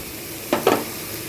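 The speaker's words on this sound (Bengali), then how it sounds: "এবার আমি ওই যে দুধটা আমি রেখেছিলাম সেই লিকুইড দুধ দিয়ে দিলাম।" Liquid milk poured into banana flower cooking in a pan in a Bengal family kitchen, giving two brief sizzling splashes close by over a quiet background, with no speech.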